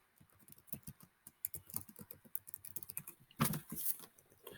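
Someone types a search on a computer keyboard, a quick run of soft, close key taps in an uneven rhythm, ending in a louder cluster of strikes, heard alone in a quiet room.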